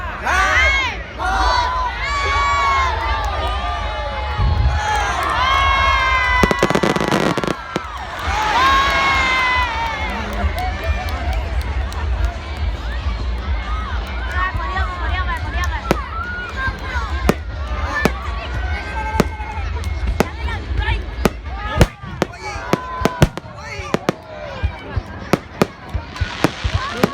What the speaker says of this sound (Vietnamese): Quý vị và các bạn đang đến với chương trình bắn pháo hoa của thị xã Quế Võ chào mừng xuân Giáp